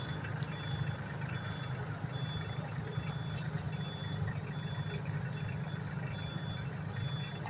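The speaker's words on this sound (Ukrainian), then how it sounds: "Так, на задній передачі їдемо." A truck driving in reverse gear, its reversing beeper sounding at a steady even rhythm throughout over a constant low engine rumble, with no talk.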